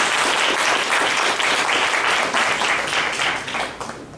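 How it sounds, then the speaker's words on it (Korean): A church congregation at a Christmas commemoration service claps in thanks, a dense, loud burst of applause that stays strong before tapering off near the end. "우리 감사의 박수 부탁드립니다"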